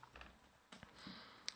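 Faint, quiet clicking of keys as someone types an IP address on a computer keyboard, a few scattered taps with one sharper click near the end.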